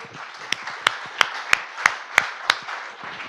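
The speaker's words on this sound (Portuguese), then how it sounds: "Quem pode aplaudir a Jesus mais uma vez?" Rhythmic clapping from a church congregation, steady sharp claps about three per second over a continuous bed of applause.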